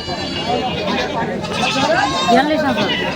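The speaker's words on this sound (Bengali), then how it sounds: "মাসাল্লাহ দুটা খাসি এসছে" Black Bengal goats bleat repeatedly at a crowded goat market, their calls close and overlapping with steady talk and background crowd noise.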